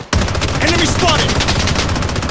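Blood Strike gunfire, a continuous fast burst of close automatic shots at high volume, with a voice faintly present beneath the rattle.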